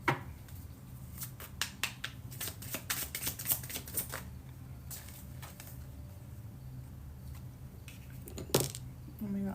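Angel number cards are shuffled quickly, giving rapid close, crisp flicks and taps in uneven bursts over a quiet room, louder at first and then thinning out.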